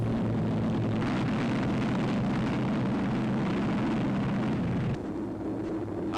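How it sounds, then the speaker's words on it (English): Wartime bombers drone overhead at night, a dense throbbing roar of many engines filling the air, loud and continuous before easing slightly near the end. "The throbbing drone of bombers already in the air"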